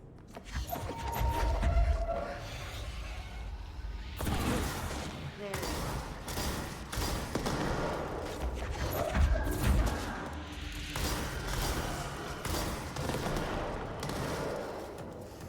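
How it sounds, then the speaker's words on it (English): Sticky mines detonate in the Control video game amid a busy stretch of rapid crackling blasts and bursts over dense game noise, loud and continuous, no talking. "So I have to hit him with the sticky mines and detonate all three at once."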